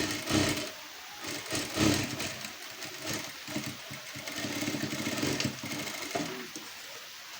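A sewing machine stitches fabric for a blouse in bursts, its motor whirring up and down in several short runs of rapid mechanical humming at close range.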